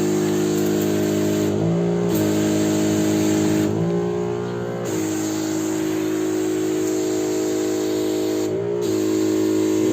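A steady motorized hum from a battery-powered sprayer pump with a new battery runs throughout with a high whine, briefly dipping in pitch a few times as the load changes; no voices.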